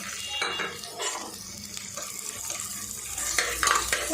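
Garlic sautés with onion and dried chillies in a pan for tomato sambar, giving a rough frying sizzle with utensil scrapes and clinks of cookware throughout.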